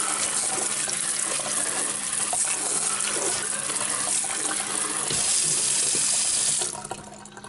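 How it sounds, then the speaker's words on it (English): Tap water runs in a steady, close hiss over freshly scrubbed apples being rinsed at a sink, with slight splashing variations before the flow shuts off near the end. "Once I get these scrubbed, I'm just going to give them a final rinse here."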